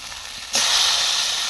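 Meat hits a hot pan and a loud sizzling hiss bursts up suddenly, then holds steady and close.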